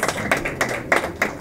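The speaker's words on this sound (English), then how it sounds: "We can get better with our claps." An audience claps at a book launch event, with sharp, close, rhythmic claps coming in even bursts about every third of a second.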